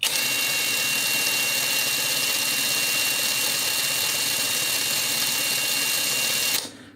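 A VVOSAI WS-Z9 cordless four-speed impact driver runs steadily at its first speed, a loud continuous motor whine that holds constant for about six seconds and then cuts off abruptly, with no talk.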